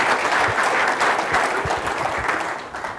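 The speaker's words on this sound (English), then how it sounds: "So please give a big round of applause for the sponsors." A conference audience claps steadily in a dense burst of applause, loud and close, continuing throughout with no voices.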